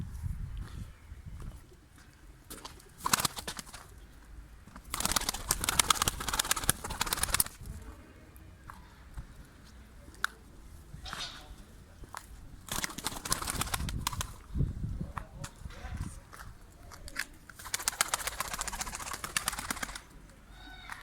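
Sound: Çıplak breed pigeon cooing

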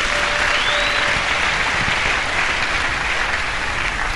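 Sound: church congregation applauding

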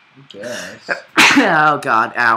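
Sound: sneeze

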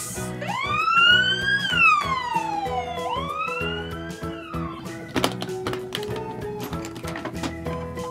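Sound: ambulance siren

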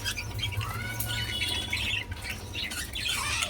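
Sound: pet birds calling in cages

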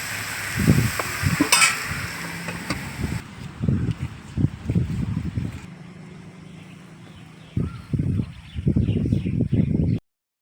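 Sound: onions frying in a little oil in a wok

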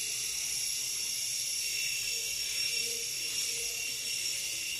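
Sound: electric toothbrush buzzing

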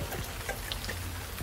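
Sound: rain

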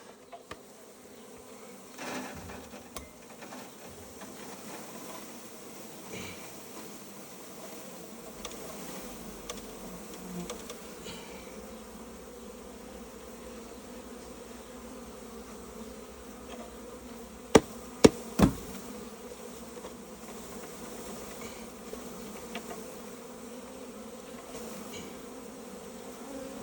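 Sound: honeybees swarming around a hive

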